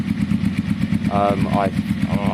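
A Kawasaki cafe racer motorcycle idles nearby with a steady, pulsing exhaust burble, joined midway by short whistling, warbling tones, all brief and close.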